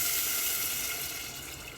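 Two cups of water poured from a measuring cup into a pot of rice for brown rice, a close, steady rushing splash that holds and then tapers slightly toward the end.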